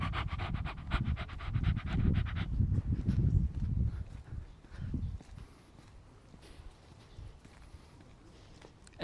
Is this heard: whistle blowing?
no